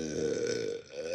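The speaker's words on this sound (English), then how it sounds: "This is smooth burp." A single smooth, low burp after drinking Sprite, lasting about a second, close and fairly quiet, with no talking.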